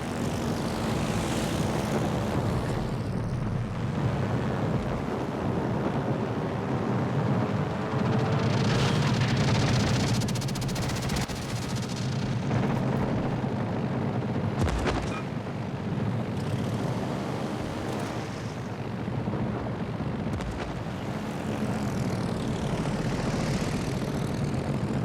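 A steady, droning propeller-plane engine roar from the naval game World of Warships Legends holds for the whole stretch, loud and continuous with slight swells, alone without speech.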